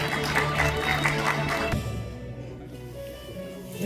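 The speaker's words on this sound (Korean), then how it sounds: "두 분을 박수와 함께 무대 위로 모시도록 하겠습니다." Conference audience at a dental awards ceremony applauds as presenters walk on stage, a dense burst of clapping that cuts off abruptly partway through, leaving a quiet room.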